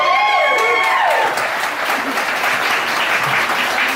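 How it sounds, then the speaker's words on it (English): Wedding guests applaud the in-laws. The clapping swells from a crowd and holds steady at moderate loudness for a few seconds, with a brief tone fading out at the start. "Can we get a round of applause for them?"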